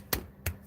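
Two sharp hand claps about a third of a second apart, close and moderately loud over quiet room tone, clapping like the Clapper lamp switch.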